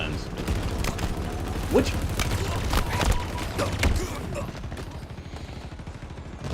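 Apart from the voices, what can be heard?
alien guns firing in the Halo video game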